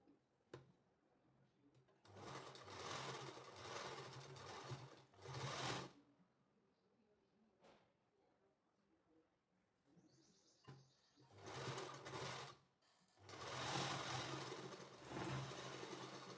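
Sewing machine stitching the shoulder seam of a designer kurti, running in several loud bursts of a few seconds each, separated by brief pauses and handling sounds.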